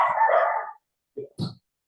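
Dogs being let outside bark, one sustained bark followed by two short, sharp yaps after a pause, fairly close and loud.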